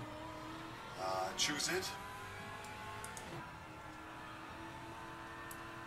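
A Zin race car in a racing video game, at the Dijon-Prenois circuit, hums steadily at low volume with a brief rise in engine revving, while a person speaks over it.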